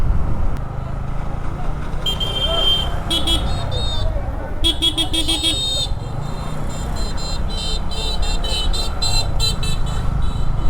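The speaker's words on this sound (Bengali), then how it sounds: "এত হর্ন দেওয়ার দরকার আছে?" Vehicle horns honking in evening road traffic on a long motorbike ride, several short and longer toots in bursts over steady engine and road rumble, with voices talking.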